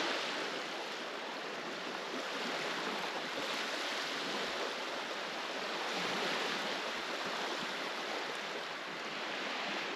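Lake waves lapping on a beach at Neys Provincial Park, a steady faint wash of surf with light wind, no voices.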